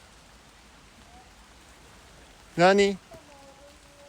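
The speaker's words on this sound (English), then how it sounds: "Enjoy the rain." Steady rain falling outdoors in Japan, a soft, even hiss of drops that runs the whole way through at a moderate, close level, with a brief spoken exclamation cutting in near the end.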